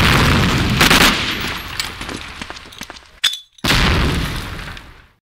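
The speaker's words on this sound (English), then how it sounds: "Mony, I'm gonna support you with a nade." A sharp grenade blast with a metallic clang in the Medal of Honor: Allied Assault multiplayer game, set against loud ongoing gunfire that cuts out briefly before the clatter resumes and fades.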